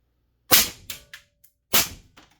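Galil ACE Gen 2 rifle fired with a YHM suppressor, two sharp close cracks each followed by short echoing tails and fainter trailing clicks, no talking.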